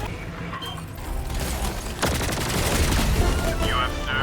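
Gatling sentry turret firing in the Helldivers 2 video game, a dense, continuous rattle of rapid gunfire that grows heavier and steadier partway through, with battle effects mixed in.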